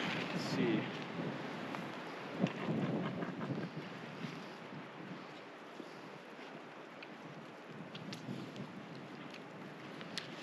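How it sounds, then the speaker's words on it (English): Steady outdoor wind buffets the microphone in the Rocky Mountains during an ice fishing backpacking trip, a continuous rumbling gust with occasional louder puffs and faint background voices. "The wind's picking up."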